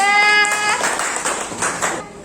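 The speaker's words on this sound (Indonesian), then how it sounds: "tepuk tangan untuk kelompok" A classroom of students gives a short, scattered round of applause for a presentation group, several quick claps following a brief tone at the start.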